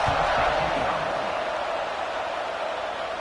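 A College Football 26 stadium crowd buzzes through a tied fourth quarter of Florida versus Texas A&M, a steady, dense roar of many voices that holds constant and eases slightly toward the end.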